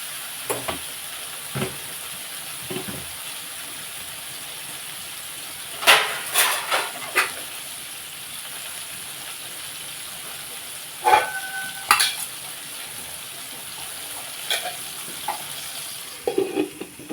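Brinjal slices fry in a pan with a steady soft sizzle, broken by occasional clinks and scrapes of a spoon stirring them, close and without speech.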